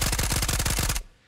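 Vector 9mm submachine gun fired in a video game: a loud, rapid automatic burst of closely spaced shots lasting about a second, then cut off into near silence.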